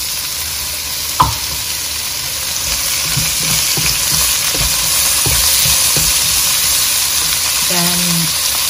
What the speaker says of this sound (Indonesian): Kita tumis sampai harum ya Bu, sampai berubah warna.